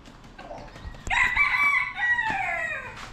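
A rooster crows once, loud and close, with a long drawn-out call outdoors on Oahu's South Shore, preceded by faint clucking in the background.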